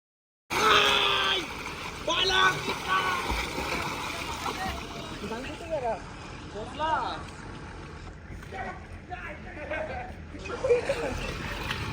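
Loud splashing and churning water at a farmhouse swimming pool as people jump in, with excited voices and shouts mixed throughout the sustained watery roar.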